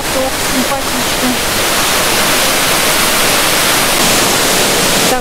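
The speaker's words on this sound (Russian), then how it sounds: "Да, вот такой поток симпатичный." A stream of water flowing inside an abandoned mine in Abkhazia, a steady, dense rushing wash that holds constant from start to finish, with a faint voice briefly at the start.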